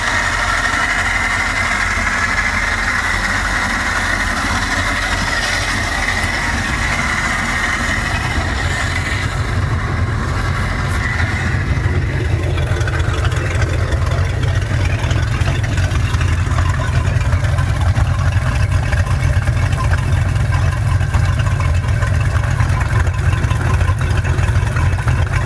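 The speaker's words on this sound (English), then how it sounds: "Some rattle coming from one of the pulleys." A Mercruiser 5.7 marine engine in a 2000 Rinker boat runs steadily at idle, a continuous low mechanical drone with a faint rattle from one of its pulleys, loud and close throughout.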